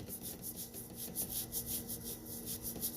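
Hands rubbing a ginger hair treatment into the scalp over a bald spot, a steady close, soft rasping friction with rhythmic strokes, no talking.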